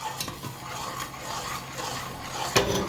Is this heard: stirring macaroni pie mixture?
yes